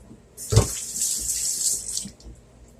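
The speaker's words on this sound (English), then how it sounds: "let me wash my hands off" Water runs steadily from a kitchen sink tap while hands are washed, a close, hissing gush lasting about a second and a half and beginning with a soft thump, then cutting off.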